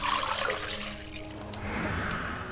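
Water gushes from a tap into a bucket aboard a haunted ship in a horror adventure game, a steady close rush that thins briefly midway before swelling again, with no talk.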